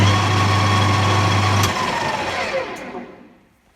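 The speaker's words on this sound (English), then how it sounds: "It would be noisy because there's straight cut gears in these and they're not the quietest of headstocks." A Colchester Student lathe with straight cut gears in its headstock runs with a loud mechanical whir and hum, then spins down and fades out toward the end.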